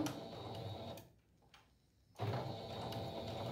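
Sewing machine running a reverse stitch on fabric strips for a rug: soft, rapid mechanical ticking and clattering, close and quiet, broken by a short near-silent pause before stitching resumes.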